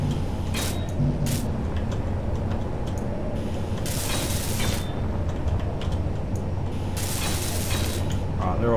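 Blocks being welded in Space Engineers: a constant mechanical hum with bursts of harsh grinding and ratcheting noise repeating every few seconds.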